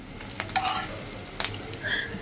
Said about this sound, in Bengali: এক চুলায় ডিম ভাজা আর এক চুলায় ভাত বসাই দিছি